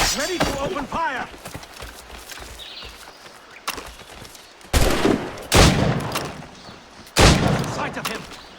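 Cannon blasts and gunfire in the Assassin's Creed Rogue video game, several loud booming bursts at irregular intervals, mixed with shouted character voices and battle noise.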